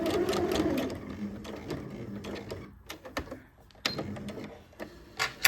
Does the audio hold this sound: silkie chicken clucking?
no